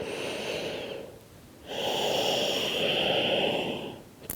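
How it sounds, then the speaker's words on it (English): Slow yoga breathing through the nose with an ocean-like rasp, one long airy exhale, a brief pause, then a fuller breath, close and steady with no speech. "This is the sound that we would like to create with our breath"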